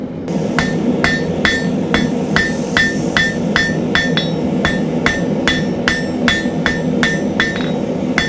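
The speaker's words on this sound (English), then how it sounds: "I want to be cautious about hammering too much on this while it's small so that I don't bend it and then create cracks." Blacksmith hammer striking a small piece of hot steel on an anvil, a steady run of about twenty sharp, ringing metallic blows at a brisk, slightly uneven rhythm, close and loud over a constant forge roar.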